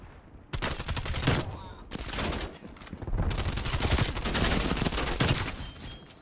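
Rapid bursts of video game gunfire rattle almost continuously, overlapping volleys and sharp shots in a dense, loud exchange with brief lulls between bursts.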